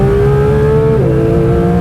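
A Porsche GT3 RS engine revs hard on a track, its loud, steady tone climbing as it accelerates, dipping briefly at a gear change, then pulling on again.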